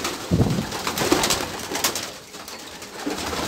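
Pigeons cooing close by, with soft flutters and wing rustles mixed among the repeated low coos in a busy, steady stretch.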